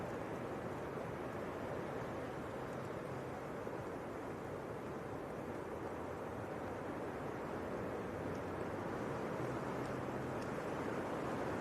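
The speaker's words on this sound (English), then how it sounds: "the wind's 190 degrees at 25, gusting 41 in fog" Strong storm wind during Storm Amy at Leeds Bradford Airport, gusting hard, a steady broadband roar that holds loud and unbroken throughout with no pauses.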